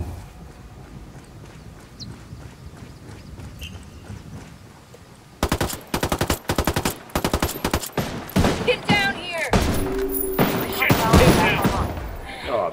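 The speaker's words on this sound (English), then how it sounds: "Taking fire, fucking hell!" Gunfire in the video game Ghost Recon Wildlands at an airbase: quiet ambience gives way to a loud, rapid series of sharp shots in bursts, followed by a dense mix of blasts and scraping effects.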